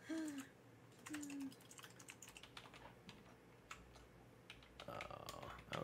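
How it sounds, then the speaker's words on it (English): Rapid clicking of a computer keyboard during a tabletop role-playing game session, irregular bursts of keystrokes under a faint background hum with short voiced sounds nearby. "I'm bad at typing."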